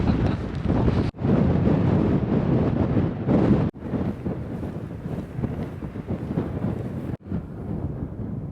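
Strong wind buffeting the microphone on the exposed Cheviot summit, a loud continuous roaring rumble broken by a few brief drops, with no voices over it.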